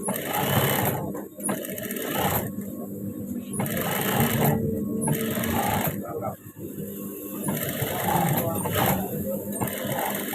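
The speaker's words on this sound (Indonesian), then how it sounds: "Seperti ini cara pertama menjahitnya." A sewing machine stitches an official uniform garment, its loud, close mechanical whirr running in steady bursts broken by a few short pauses.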